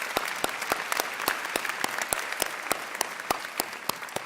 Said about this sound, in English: let's have another round of applause for these wonderful student speakers